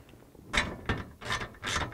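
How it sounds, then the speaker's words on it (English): A 1/2-inch socket wrench tightens bolts on a wall mount rack, giving four short ratcheting clicks in quick bursts, close up and moderately loud with no talking. "you can take your 1/2-inch socket or your 1/2-inch box end wrench, whichever works for you,"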